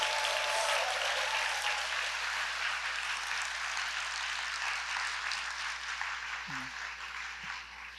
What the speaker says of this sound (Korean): 여러분들 박수 한번 끝으로 부탁드리겠습니다.